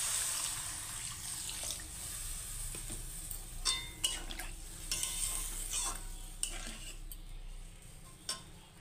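Water poured into a pan of frying pui shak stalks and mixed vegetables for a chorchori, giving a soft wet hiss and bubbling, with scattered clinks of a utensil against the pan and no talking.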